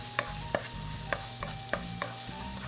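Garlic and chopped fresh ginger sizzle quietly in sesame oil over medium-high heat, with a soft frying hiss broken by several sharp stirring clicks of a utensil against the pan.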